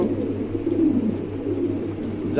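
A pair of pom pigeons coo softly and repeatedly over a low steady hum, the throaty calls close by and rising and falling in a slow rhythm.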